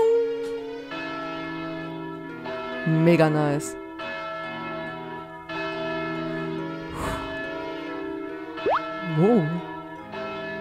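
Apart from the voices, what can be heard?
blessing bell ringing in video game Story of Seasons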